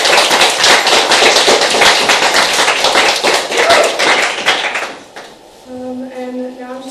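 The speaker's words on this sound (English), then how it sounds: "so let's give them a round of applause" Audience applause at a WUW Under Wonder performance event: loud, dense, sustained clapping from a crowd for about five seconds, then it dies away and a steady tonal sound follows.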